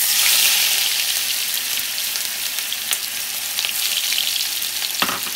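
Spices fry in a pan with browned cumin, a strong close sizzle that starts loudest and settles into a steady hiss, broken by a few sharp clinks and scrapes near the end.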